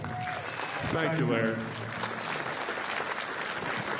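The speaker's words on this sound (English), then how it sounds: "give him a big round of applause" A crowd applauds throughout at a political victory speech, steady clapping filling the room while someone speaks briefly over it.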